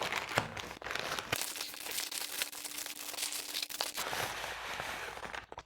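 Plastic packaging on a Photron USB PC speaker box crinkles and rustles as it is opened, with a few sharper crackles and tears up close and no talk.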